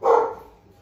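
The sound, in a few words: dog barking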